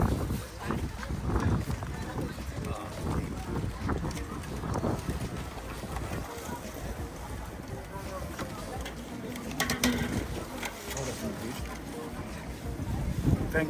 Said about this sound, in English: It's proper windy out here as well.